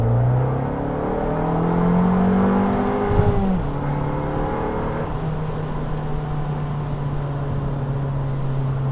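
Abarth 695 Rivale with a 180 hp engine, a small car weighing just over a tonne, accelerating hard: a loud, rising engine note climbs through the revs, with a brief gear-change dip before pulling on steadily.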